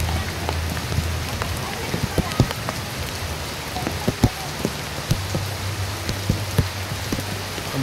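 Steady rain falls, a continuous close hiss with scattered sharper drops and splashes tapping throughout, plus a faint low hum in the background.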